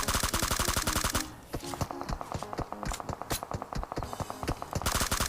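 Rapid automatic gunfire in a shooter video game, bursts of close, loud shots in a fast steady rhythm that continue for several seconds with hardly a break.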